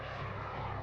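Military aircraft of the US Navy fly by, a steady, loud engine roar that fills the brief moment with no gaps or voices.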